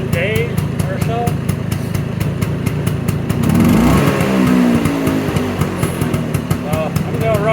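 A 1979 Vespa scooter engine runs after a kick start, a steady close mechanical putter with a rise in revs midway, while people talk over it.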